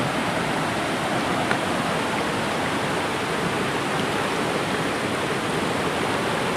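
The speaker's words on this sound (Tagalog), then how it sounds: "ayan ang dumaka river oh malinis ngayon kasi nga nagbaha" River water flowing steadily after a typhoon flood, the current running clear, a continuous broadband rush that stays even and close throughout, with no voices.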